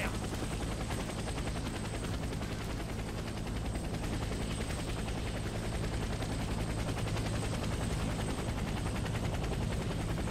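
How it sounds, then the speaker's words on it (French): Helicopter rotor drone and bursts of machine-gun fire from the Warface video game on Xbox Series X, steady and loud throughout with dense gunfire layered over the constant whir. "Rejoignez l'hélico pour évacuation."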